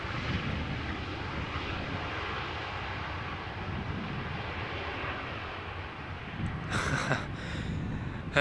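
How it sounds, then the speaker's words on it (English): A Boeing 737-800 arriving at Amsterdam Schiphol Airport after a flight from Bucharest gives a steady broadband jet roar that holds for several seconds, with a short burst of higher noise near the end. "flight 361, Boeing 737-800 arriving from Bucharest"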